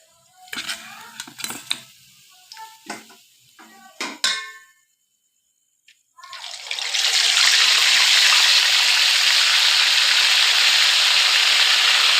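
Fish frying in a pan: a few clinks and knocks of utensils first, then after a brief hush a loud, close, steady hiss of sizzling oil that carries on to the end.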